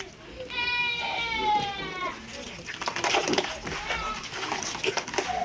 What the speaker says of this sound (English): You might hear the baby crying